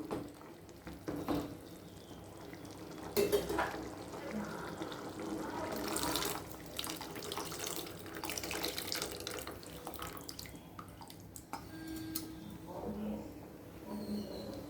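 Tamarind water pours and splashes steadily into a pot of okra tamarind curry, a running, trickling flow with faint clinks and soft background voices.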